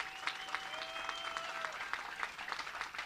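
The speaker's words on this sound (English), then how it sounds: "Let's give another round of applause to Fining Friday and to all the speakers who are up here." Audience applause at a campaign announcement event, a soft, fairly distant patter of clapping with a few louder claps poking through, alongside a brief high-pitched tone.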